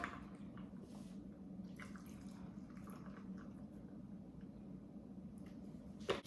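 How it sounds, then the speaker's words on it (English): Milk pours into hot coffee being made as iced coffee, a faint, steady liquid trickle heard close up for several seconds, with a small clink at the end. "I like to pour in the milk first, so that since like the water is still hot right here, like the coffee"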